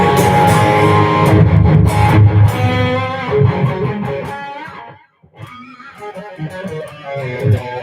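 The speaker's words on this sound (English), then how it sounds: "What you're hearing now is a Kemper." An electric guitar played through a Kemper amp profiler rings out with sustained distorted chords and notes, loud and close, dropping briefly to near silence before softer picked phrases resume.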